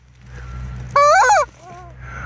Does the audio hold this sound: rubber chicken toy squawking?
yes